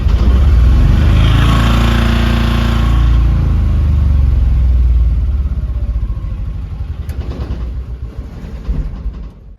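A car being driven into a parking spot: a close, loud engine rumble holds steady, then eases and fades toward the end as the vehicle slows.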